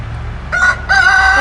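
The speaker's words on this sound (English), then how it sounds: "Oh, those are my chickens." A backyard rooster gives two close, loud crows in quick succession, the second longer and more sustained, over a faint low background hum.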